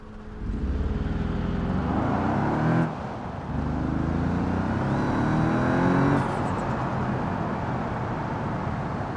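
A steady car engine drone in the game BeamNG with rising and falling pitch as it revs and shifts, loud and continuous with a brief dip midway.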